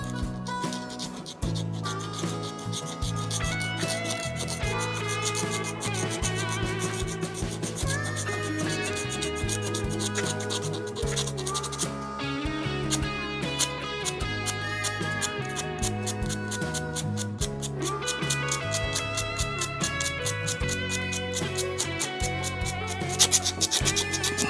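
Hand sanding strips rust and paint from a Harley motorcycle part, a close, continuous rhythmic rasping scrub that keeps steady for the whole stretch with no talk.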